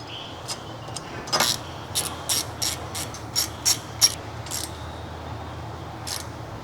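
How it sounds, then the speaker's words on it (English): A small ratcheting wrench with a spinner handle and 8mm socket secures the brake hose bracket on a 2015-2018 Ford Fusion rear hub, producing a close series of crisp, evenly spaced clicks over a quiet background. "Using the small ratcheting wrench, spinner handle, and 8mm socket, secure the brake hose bracket."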